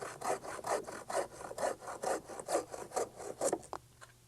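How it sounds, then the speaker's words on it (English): Crosscut saw with fairly large teeth cutting wood, giving a close, loud rhythmic rasp of about nine even back-and-forth strokes with no talking. "This crosscut saw has fairly large teeth and cuts wood rapidly."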